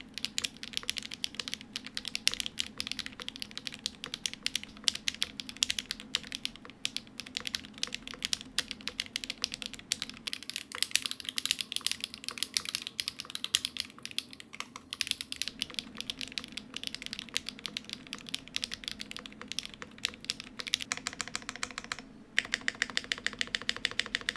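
Continuous fast typing on a foamless mechanical keyboard, bright clacky keystrokes rattling close and steady throughout with no voices.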